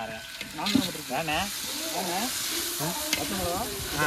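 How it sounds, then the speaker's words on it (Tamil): Ground ginger garlic paste hitting hot oil in a village cooking pot for quail biryani, a close, continuous sizzle with stirring scrapes, while people talk over it. "அடுப்பு இஞ்சி பூண்டு பேஸ்ட் போடுறோம்"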